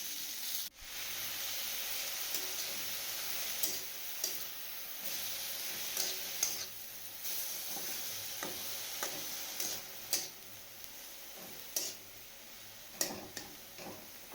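Finely chopped spinach fries softly in a pan over crackling sesame seeds, a faint steady hiss broken by light ticking stirs and occasional spatula taps, no voices.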